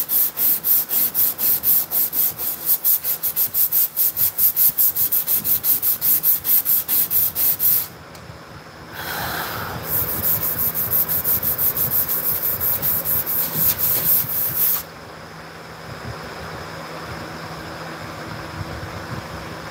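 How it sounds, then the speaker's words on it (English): Wood is sanded in long, steady rhythmic strokes, loud and close for about eight seconds, then continuing at a lower, rougher level after a brief pause, with faint background noise. "Just a little bit of sanding."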